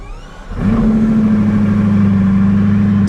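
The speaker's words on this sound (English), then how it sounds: "And then, engine start." A Bugatti engine fires up after a brief quiet moment, catching with a burst and settling into a loud, steady, deep idle that holds close by without any talk over it.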